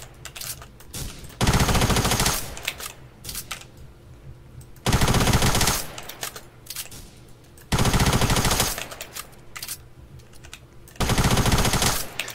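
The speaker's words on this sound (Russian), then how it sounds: "Я в них стреляю, одного почти убил" Automatic gunfire in the Roblox shooter Fortblox, coming as four long, loud sustained bursts separated by quieter gaps with faint game noise.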